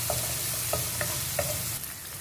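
Onion and garlic sauté in a pan for moringa leaf thokku, a steady close sizzle with a few light scrapes of a stirring spoon.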